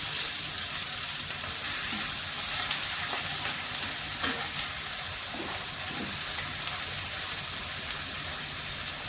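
Prawns, five-spice and grated ginger fry in a pan for a prawn and ash gourd ghonto, giving a steady close sizzle with scattered small pops and crackles throughout, and no voices.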